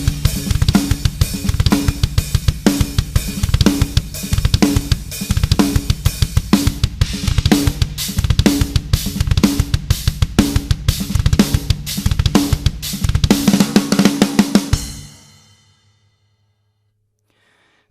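A drum kit pounds out a heavy double-kick groove, with rapid bass drum strokes under crashing cymbals, loud and close, stopping abruptly near the end.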